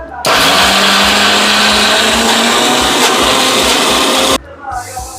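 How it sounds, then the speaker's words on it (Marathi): A mixer grinder whirs loudly and steadily for about four seconds as it blends washed sprouted mung and moth beans, then cuts off abruptly, leaving a brief quieter tail. "आपण मिक्सरमध्ये टाकायचं"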